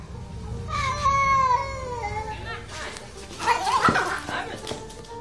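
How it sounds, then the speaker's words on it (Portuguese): A young wild cat gives a weak, high-pitched, meow-like roar twice, thin and cat-like rather than deep, with someone speaking over part of it. "o que aconteceu com seu rugido? Escute de novo."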